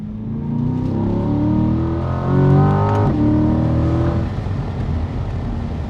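Chevrolet C8 Corvette with a dual-clutch transmission, engine droning and rising through the gears, with a sharp exhaust crack at an upshift midway before the revs settle into a steady hum, loud and close, without talk.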